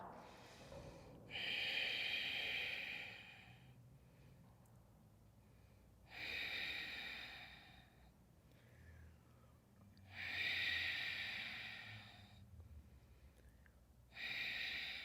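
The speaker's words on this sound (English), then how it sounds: "Go back to your ujjayi breathing to keep that heat in the body." Slow, audible ujjayi breathing during a yoga flow, heard as four long hissing breaths, each a few seconds long, separated by quieter pauses, close and steady with no talking.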